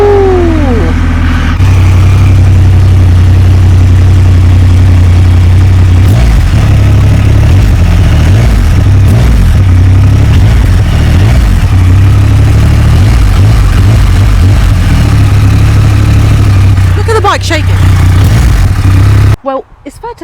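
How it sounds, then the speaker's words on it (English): The triple-cylinder engine of a Triumph Rocket 3 Storm motorcycle idles loud and close, a deep, steady, throbbing rumble held for most of the stretch, with a brief starter whine at the start and a few blips near the end. "I love the thumpy triple sound of the Rocket 3, so let's get it fired up"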